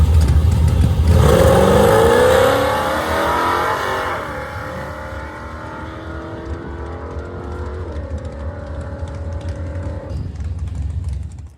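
A Dodge D100 farm truck with Speedmaster heads and a solid roller cam launches on a drag strip pass: a loud, rising engine roar climbs through the gears, then fades steadily as the truck pulls away down the track.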